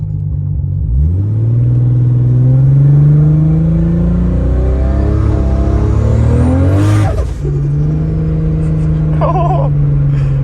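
An 800 to 1000 horsepower Toyota Supra with a built TH400 transmission accelerates hard, its engine note climbing loudly through a gear change and settling into a steady roar, heard close from inside the car.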